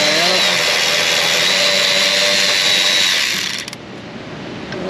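Power tool with a wobble socket spinning out the lower bolt on a Silverado Duramax 6.6 L5P turbo hot-side boost pipe, a loud steady whir that cuts off near the end and leaves quiet.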